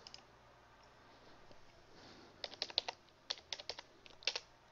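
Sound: typing on a computer keyboard and pressing enter

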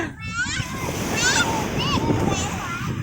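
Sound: strong sea water and splashing

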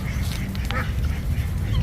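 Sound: duck quacking

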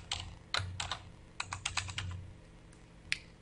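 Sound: typing email and password on computer keyboard

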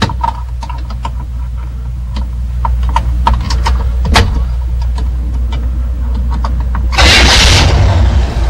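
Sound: General Motors car engine starting after ignition is bypassed

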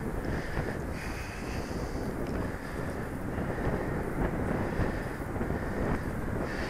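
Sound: strong wind on a hillside

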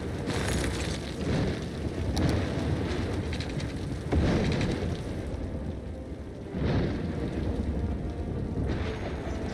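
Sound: thunderstorm in the video game Cities: Skylines

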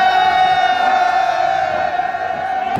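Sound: crowd at Shivratri festival procession in Mandi

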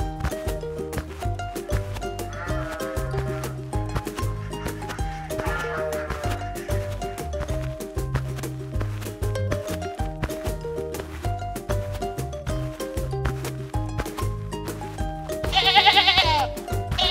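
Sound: sheep bleating

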